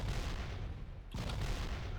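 Rapid submachine gun fire in the Factorio video game, aimed at enemy turrets: a dense, continuous burst of shots that runs at steady loudness and sharpens into a fresh attack about halfway through, with no talk.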